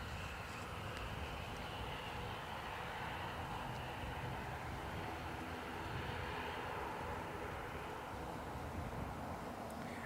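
A United Airlines Boeing 787 Dreamliner from Chicago at Dublin Airport gives off a continuous, even jet engine rumble and hiss, steady and fairly distant, with no talking.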